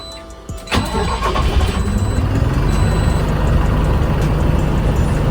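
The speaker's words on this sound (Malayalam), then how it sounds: "വണ്ടി ഒന്ന് സ്റ്റാർട്ട് ചെയ്യാം" A Tata Ultra 30-seater AC bus with a 3.3-litre, 3300 cc, 160 hp engine cranks briefly and fires. It settles into a loud, steady, close diesel idle that rumbles on without pause, and no voices are heard.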